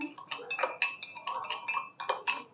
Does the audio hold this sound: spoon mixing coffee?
yes